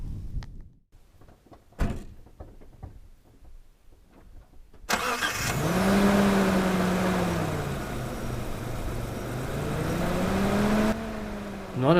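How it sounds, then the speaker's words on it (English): A pickup truck, recorded from a camera mounted on its front, sits quiet with a few clunks and door sounds, then its engine starts and runs loudly with the pitch swelling and falling in rev-like surges, close to the microphone. "it sounds like I'm revving the guts out of my truck"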